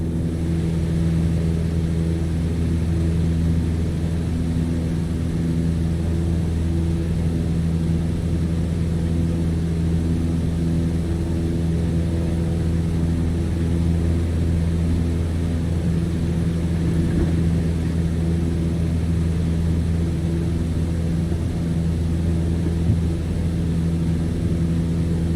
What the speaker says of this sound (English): On the Cessna 152, you need full power to climb effectively.